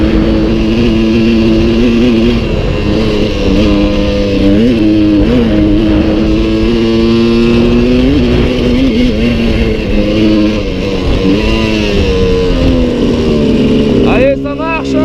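A 1996 Suzuki 125 TSR trail bike runs on an off-road mountain track, its engine a loud, steady two-stroke drone with rising and falling revs, someone talking over it throughout.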